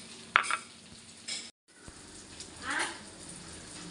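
Paal paniyaram made from idli batter fries in hot oil with a soft, quiet sizzle, punctuated by a few sharp clinks and scrapes of a utensil against the pan.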